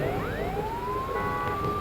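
Ambulance siren wailing at the scene of a head-on collision between a bus and a car during a trip to Wayanad, its tone sweeping steadily upward and holding over a constant low traffic rumble.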